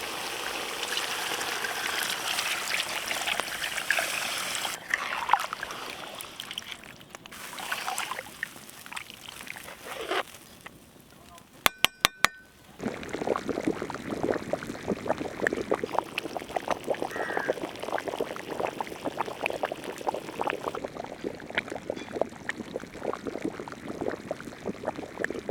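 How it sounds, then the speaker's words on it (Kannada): Water is poured into a pan of sizzling chicken enne khara, a close gushing splash and hiss that comes in bursts, then settles into a steady bubbling simmer. "ಈಗ ನೀರು ಹಾಕಬಿಡೋಣ."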